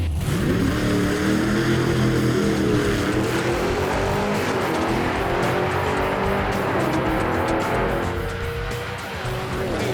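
A loud 1967 Chevy Camaro engine roars and climbs in pitch as it launches hard down the drag strip, with tire squeal and a fading rush near the end.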